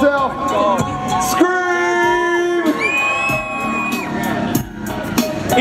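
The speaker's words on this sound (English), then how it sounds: "can we make some noise for the reason we're here today?" A crowd at the Gumball 3000 rally in London cheers, whoops and screams in a dense, continuous roar, with individual shouts rising above it.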